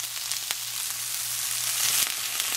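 Freshly blanched green beans sauté lightly in a pan with onion, giving a steady, close sizzle and crackle with a few sharp pops and light stirring.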